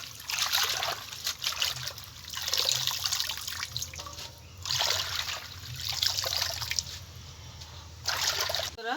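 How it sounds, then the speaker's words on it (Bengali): Jute leaves washed by hand in clean water, with running, trickling water and splashing coming in repeated bursts, close and fairly loud. "এখন পরিষ্কার জল দিয়ে বারবার করে ধুয়ে নেব।"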